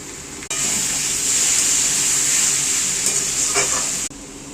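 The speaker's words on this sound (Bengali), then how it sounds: "ঢাকা দিয়ে দিয়ে ভালো করে এটা ভেজে নিচ্ছি।" Taro pieces fry with salt, turmeric and black cumin in oil, giving a dense steady sizzle up close that begins and ends abruptly, with a few faint clinks partway through.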